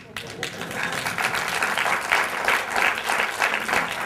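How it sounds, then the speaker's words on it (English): A crowd applauds steadily for several seconds at a spiritual gathering, the clapping dense and continuous, with some voices mixed in. "I can listen all of them clapping."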